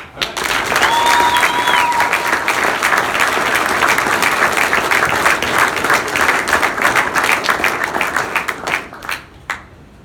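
A large audience breaks into sustained applause for the introduction of an Air Force Chief Master Sergeant, loud and steady for most of the stretch before thinning into a few scattered final claps.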